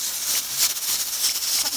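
Cold water pours steadily onto freshly boiled food in a home kitchen, a close, continuous hissing splash with slight fluctuations throughout.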